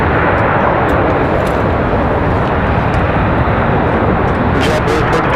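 A JetBlue airliner touches down on the runway at Raleigh-Durham International Airport, a loud, steady broadband roar of engine and rushing air lasting throughout, with no distinct breaks.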